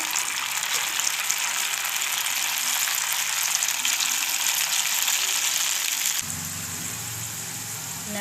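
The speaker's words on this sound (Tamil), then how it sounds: "பொரிச்சு எடுத்துடலாம். எண்ணெயும் காஞ்சிடுச்சு." Okra 65 pieces fry in hot oil with a loud, continuous crackling sizzle, dropping to a softer bubbling after a sudden change near the end.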